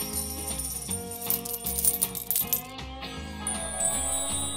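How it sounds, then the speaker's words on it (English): A cascade of bright coin jingles and chimes tumbling over bouncy cartoon music, steady and cheerful throughout. "Look, the coins are raining again."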